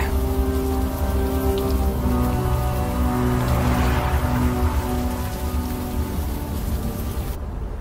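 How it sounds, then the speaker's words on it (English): Steady, dense rainfall in the video game Unavowed, a continuous loud patter of drops on surfaces with a low rumbling undertone, no voices. "At least the rain is washing away most of the smell."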